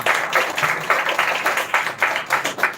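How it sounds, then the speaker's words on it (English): An audience at a children's literature festival gives a round of applause, a fairly loud and steady patter of many hands clapping that swells in waves, with no voices over it. "can we have a round of applause for them?"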